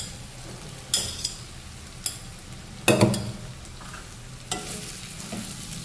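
Cooked rice being stirred into vegetables in oil for pulao, with a soft background sizzle and several distinct scrapes and clinks of a spoon against the pot, close by and without talk.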